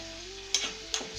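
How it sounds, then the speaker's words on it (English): Meatballs frying in a pan, stirred with a utensil: steady sizzle with a couple of short scraping strokes, close by, no speech. "Careful when you're stirring, so you don't damage the meatball."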